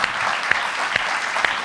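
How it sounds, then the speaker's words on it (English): An audience at a Harvard event on conservatism and American democracy gives a warm round of applause to welcome a journalist, a steady wash of clapping with a few sharp individual claps standing out. "You could give him a warm applause and welcome for Harvard."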